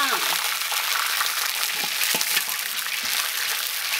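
Doubanjiang chili bean paste frying in hot oil in a wok over a fierce flame, a steady loud sizzle with a few scraping stirs, no talking.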